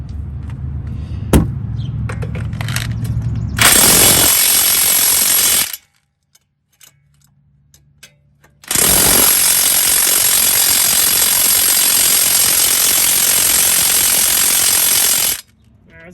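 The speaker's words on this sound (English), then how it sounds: "able to use the impact again here" Impact wrench hammering out a strut bolt on a Toyota Camry front suspension, two loud sustained bursts of rapid rattling, the first about two seconds and the second about seven, separated by a quiet gap with faint clicks.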